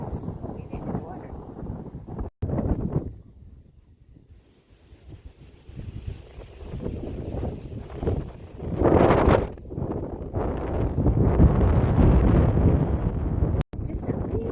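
Gusty wind roars across an open disc golf course near water, swelling and easing in loud low buffets against the microphone, with brief voices at moments.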